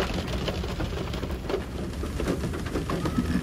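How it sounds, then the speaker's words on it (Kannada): Steady rain pours down outdoors during a school graduation day, a dense close hiss with scattered drops hitting surfaces, no voices. "ಮಳೆ ಅಂತೂ ಬಿಡುತ್ತಾನೆ ಇಲ್ಲ, ಕಂಪ್ಲೀಟ್ಲಿ ಬರ್ತಾನೆ ಇದೆ"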